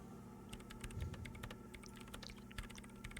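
Typing on a computer keyboard in the video game Disco Elysium: quiet, rapid irregular key clicks over a low steady hum, no talk.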